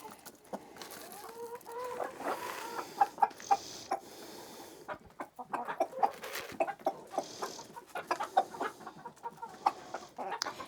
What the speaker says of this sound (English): so these are the black copper Marans, and I have one Easter egger here, and this is Clyde, my black copper Maran rooster